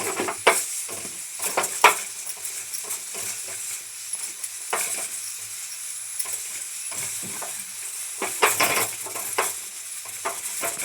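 Chole masala roasts in a pan under a soft sizzle, broken by repeated scraping and stirring strokes of a utensil against the metal at irregular intervals, close and moderately loud.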